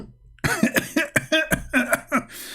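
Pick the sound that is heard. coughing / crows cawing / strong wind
coughing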